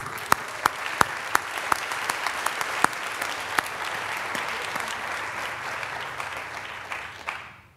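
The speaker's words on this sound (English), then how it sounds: "I think we should recognize our students with a round of applause." Audience at a Master of Engineering hooding ceremony breaks into sustained applause, dense clapping with some sharper nearby claps standing out, continuing for several seconds before tapering off at the end.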